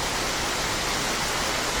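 Heavy rain pours steadily outside a balcony, a dense, even roar of falling water that stays loud and unbroken throughout.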